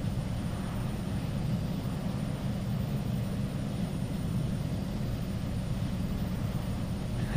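Twin Otter turboprop engine in a flight simulator game, running as a steady, even low drone and roar that holds constant throughout with no talk over it.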